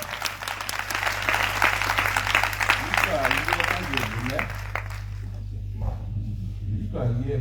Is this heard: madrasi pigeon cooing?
no